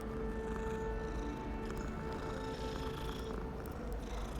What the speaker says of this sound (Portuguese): Tá ronronando.